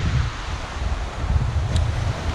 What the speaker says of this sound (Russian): ничего не слышно, только свист ветра